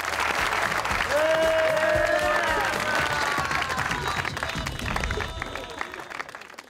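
A studio audience claps and cheers to welcome guest Shafaat Ali, a mimic and actor, onto an Eid special comedy show; steady, loud applause with crowd noise and tonal whoops or whistles over it throughout.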